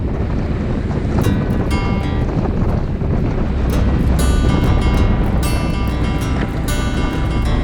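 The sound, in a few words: sailboat sailing under mainsail, waves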